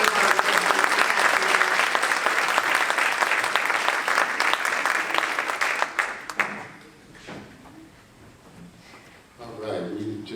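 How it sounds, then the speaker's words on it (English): Sustained audience applause honoring a family at a 31-year service celebration, loud and dense for about six seconds, then quickly fading to scattered claps and quiet room noise, with a brief swell near the end. "Let's give one more big round of applause for all three of our"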